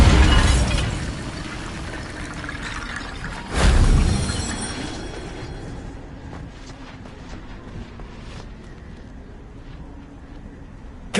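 A Bombarda blasting spell goes off in Hogwarts Legacy with a loud crashing burst early on, then a second heavy blast that trails into rumbling debris and a quieter fading ambience.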